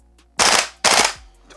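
A Cybergun Scar Light MWS gas blowback airsoft rifle fires on full auto: two short, rapid, loud bursts up close, split by a brief pause, with a faint mechanical click trailing after.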